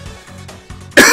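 A person coughs in a few short, muffled bursts that build to one loud, harsh cough at the end.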